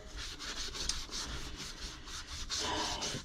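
A magic eraser scrubs an EVA foam fishing rod handle in a steady, close rubbing rasp that continues for a few seconds without pause.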